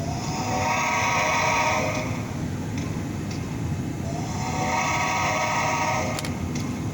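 Horn and whistle tones from a Bachmann Spectrum EM1 model locomotive with DCC sound, two sustained blasts separated by a short gap over a steady running hum, close up and without talk.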